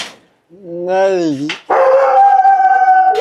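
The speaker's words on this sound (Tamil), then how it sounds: "அதுக்குள்ள நாய் வருது" A dog howls with a rising, wavering tone, then breaks into a sustained, loud barking howl, close and clear, alone with no talk over it.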